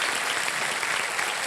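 A studio audience on the Hindi quiz show KBC (Kaun Banega Crorepati) claps loudly and continuously, a bright, dense wash of applause with no break and no speech.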